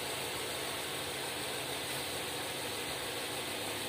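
An MG ZS Alpha engine runs at a steady idle with the belt turning, giving a continuous mechanical whir with a faint ratcheting tick throughout, fairly quiet and without voices.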